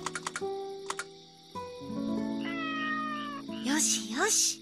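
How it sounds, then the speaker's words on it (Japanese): A cartoon cat meows in the Doraemon Story of Seasons farming game, several short rising mews near the end over soft tones and chimes of game music, with a few clicks earlier in the mix. "猫ちゃんがいる。"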